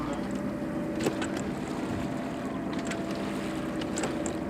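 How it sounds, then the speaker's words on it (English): A sailboat motoring under engine power across a flat calm sea, its engine giving a steady, continuous drone with a constant hum and no break throughout. "Still motoring, unfortunately, which really sucks because I would love to be sailing right now, but it's flat calm"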